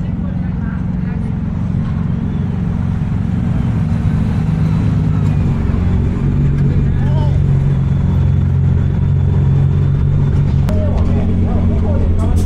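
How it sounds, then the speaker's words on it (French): Drift cars at a Toyo Tires drift demonstration in Okayama hold a steady, loud engine drone throughout, a continuous low rumble with faint higher tones on top. "c'est la démonstration des caisses de drift"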